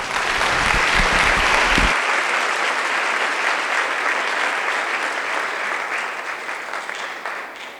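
An audience applauds to welcome speaker Dr. Jessica Pryce at a conference closing plenary, loud dense clapping from a large crowd that starts at full strength and slowly thins and fades.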